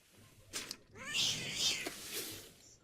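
A cat's meow from the video game What Remains of Edith Finch, heard as a couple of rising, slightly drawn-out cries close by over quiet background ambience, with a faint bird-like chirp near the end.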